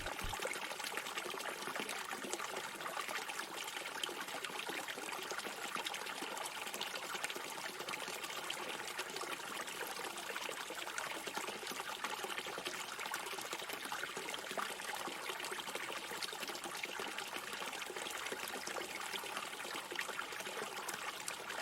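Clear water trickling and splashing steadily from a fountain, a continuous soft wash of flowing liquid with no breaks, heard alone without voices.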